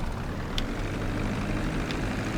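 Steady propeller engine drone of the Mammoth Dodo seaplane in GTA 5 Online, a continuous low, even hum, with a couple of faint brief clicks and no talk.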